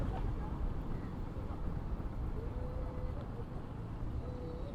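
A boat arrives and unloads at the shore in Teknaf, Bangladesh. A steady, dense rumble carries throughout with wind noise, and a few faint tonal calls sound in the distance.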